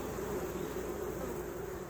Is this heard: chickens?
no